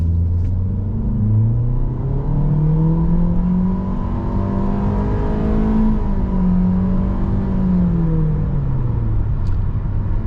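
A 2022 Honda HR-V LX accelerates from a dead stop, heard from inside the cabin as a steady engine drone whose pitch climbs smoothly, dips briefly partway through, then keeps rising over continuous road rumble.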